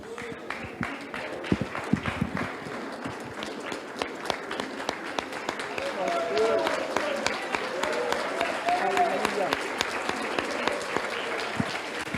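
Congregation at a church prayer service applauding, dense clapping that builds slightly and runs throughout, with voices and shouts mixed in.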